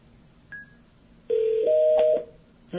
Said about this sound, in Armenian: The number is currently busy.